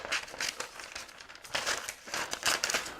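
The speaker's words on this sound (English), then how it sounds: "So let's use a pair of scissors. Let's cut out the design." Scissors cut out a paper stencil design for a helmet, giving a string of crisp snipping and crinkling bursts close by, irregular and a few per second.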